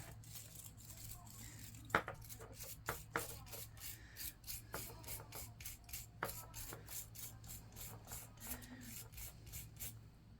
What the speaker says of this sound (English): I'll take a brush and loosen all that debris up and everything down into there